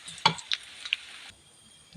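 Fried garlic is tipped into a hot pan and stirred, giving a few quick scraping clinks and a short sizzle that stops abruptly, close and fairly quiet with no talk over it.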